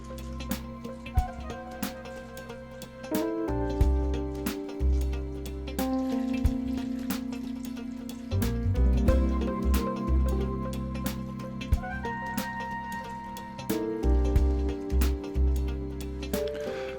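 Water pours into a Jiffy peat pellet seed-starting tray, splashing and gurgling steadily up close in uneven surges, with short pauses between pours.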